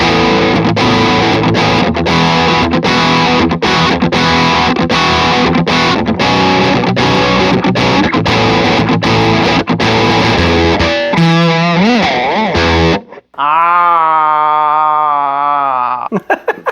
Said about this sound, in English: next up, the MXR Bad Distortion.